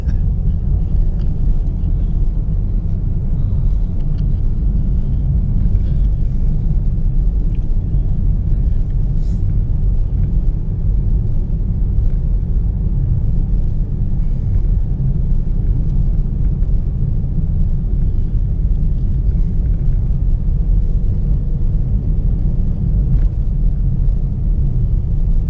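A Ford rolls along a winter road with a loud, constant low rumble of engine and tires from inside the cabin, steady and unbroken for the whole stretch with no talking.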